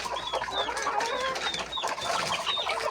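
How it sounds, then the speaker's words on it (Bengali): Fayoumi chickens and other hens cluck and chirp in short repeated calls close by, a steady busy flock chatter without anyone talking. "ফাউমি আছে এখানে, চারটা ফাউমি আর এদিকে সব মুরগি।"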